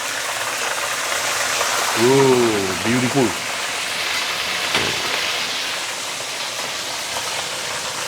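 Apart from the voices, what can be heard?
sea bass (siakap) deep frying in oil in a non-stick pan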